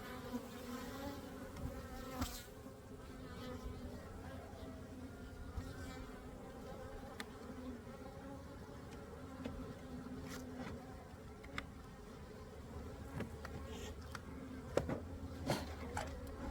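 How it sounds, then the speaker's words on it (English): A steady, low hum of many honeybees buzzing close around a hive, with occasional louder passes and faint rustles throughout. "Just look at the number of bees"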